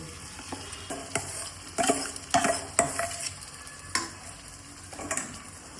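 Potato stuffing being stirred into masala in a pan while making masala dosa filling, with repeated scraping strokes and light sizzling, spoon knocks against the pan at irregular intervals, close and alone.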